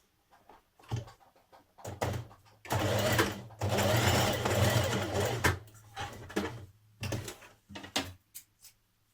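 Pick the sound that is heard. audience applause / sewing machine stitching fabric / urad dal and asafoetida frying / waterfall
sewing machine stitching fabric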